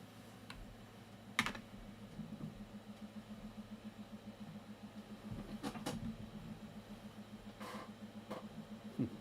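Fast keyboard typing with bursts of clicky keystrokes and a few sharper key hits, running steadily throughout against a low engine-like hum.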